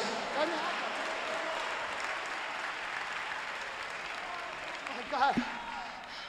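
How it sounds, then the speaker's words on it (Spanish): A church congregation applauds during a sermon, a steady wash of clapping that runs throughout, with a brief voice breaking through near the end. "¿Cuántos aplauden a la gloria de Jesús?"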